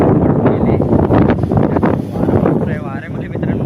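Strong coastal wind at a viewpoint above Devghali beach near Kasheli buffets the microphone in loud, rumbling gusts that swell and ease continuously, with a voice partly buried beneath the roar.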